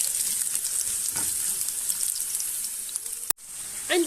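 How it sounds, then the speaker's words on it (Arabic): Sliced onion fries in a few spoonfuls of olive oil in a pan, a steady close sizzle with a soft stir, cutting out abruptly for a moment near the end before resuming. "رح انزل حبة من البصل مشرحة مقطعة شرائح، رح نقلبهم لحد ما تدبل عندي البصلة"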